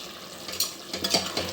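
Tomato, salt and turmeric stirred together in a pressure cooker for chicken pulao, giving soft scraping and faint sizzling with a few louder spoon strokes near the end, close and without talk.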